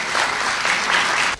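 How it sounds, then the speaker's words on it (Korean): Applause from a Korean audience after actors are introduced on stage, a dense steady clapping that carries loudly for over a second and then stops abruptly. "다시 한번 박수 부탁드리겠습니다"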